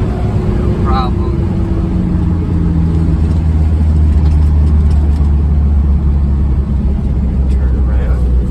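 Toyota LiteAce 4x4 van with a 2-liter diesel engine and five-speed gearbox cruising at highway speed, a loud steady engine drone and road roar under someone talking throughout.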